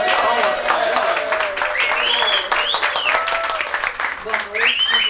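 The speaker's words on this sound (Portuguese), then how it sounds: "Uma salva de palmas para ela." Studio audience applause welcoming Leonora Pascoal, a Rede Record journalist, as the interview guest; dense, steady clapping fills the stretch, with a voice speaking over it.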